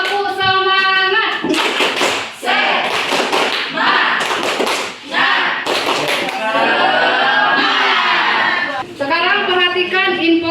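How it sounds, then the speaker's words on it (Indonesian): A class of vocational school students performs a rhythmic spirit clap chant, with loud, close bursts of unison clapping alternating with the group's chanted voices in a quick, patterned beat. "kita tepuk semangat terlebih dahulu. Oke, 1, 2, 3. Tepuk semangat."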